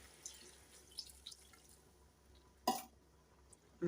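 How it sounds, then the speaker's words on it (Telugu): Water poured from a glass into a cooking pot of jackfruit biryani masala, a short splash of pouring and dripping near the middle, with quiet kitchen background and a few faint drips around it. "దీంట్లో ఒక లోట వాటర్ అయితే పోసుకుందాం."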